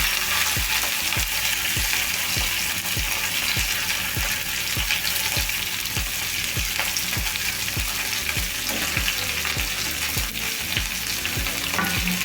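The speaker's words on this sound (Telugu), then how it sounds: "బెండకాయ ముక్కలు వేసుకుందాం" Cut okra pieces fry in an oiled pan with a garlic, dried chili and curry leaf tempering. A steady loud sizzle runs throughout under a regular clicking rhythm of stirring, with no voices.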